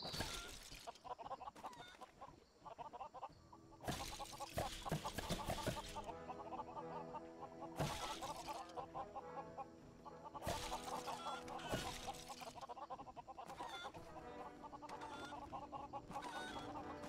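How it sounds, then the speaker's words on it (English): Chickens cluck repeatedly in the Lego Worlds video game, a string of clucks over a background game soundscape, with louder bursts of effects recurring every few seconds. "Chickens."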